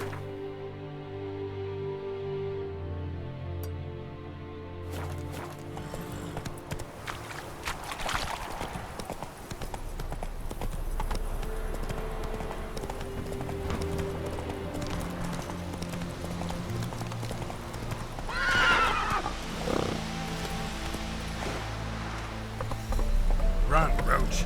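Roach, a horse in the video game The Witcher 3, gallops with a steady run of clip-clopping hooves over a music-heavy game soundtrack, with brief voice-like sounds in the mix.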